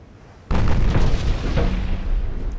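Warship guns fire in the naval video game Ultimate Admiral Dreadnoughts, with a sudden heavy boom cutting in after a quiet start, then a long rumbling roar and a second fainter thud, loud and close, no talk.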